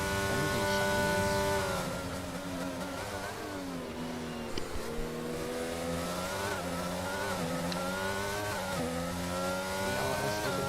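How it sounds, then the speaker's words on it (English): Formula 1 car engines in the F1 22 racing game at the Miami round, a loud sustained high-pitched whine rising and falling with repeated upshifts and downshifts across the lap. "That make everything a lot louder. Engine sounds."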